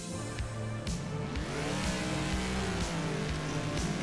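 A Reliant Robin engine in Garry's Mod ACF cranks over and revs, a low buzzing motor note that rises and falls in pitch with sweeping throttle changes, fairly close and steady with no talk.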